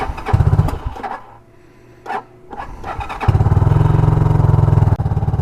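RPS Condor CG250 motorcycle engine cranking, catching, then settling into a steady, loud, close idle with a throbbing low-pitched putter and a brief dip near the end.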